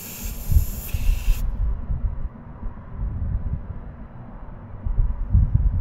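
Air hisses briefly from a truck tire valve as a tire pressure monitor is screwed on, a loud spray-like rush that cuts off after about a second, leaving low rumbling handling noise.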